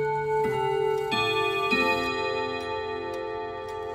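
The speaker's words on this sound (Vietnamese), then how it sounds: "chúng ta có thể chuyển qua bản nhạc truyền thống Westminster chúng ta nghe" An Odo 54/10 chime clock rings the Westminster melody, with bright resonant rod notes struck one after another, each ringing on and overlapping as the tune unfolds close by.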